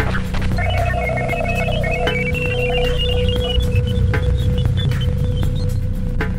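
Radio emissions recorded from Jupiter: a steady hiss and crackle with whistling tones that rise and fall, plus sharp clicks scattered throughout.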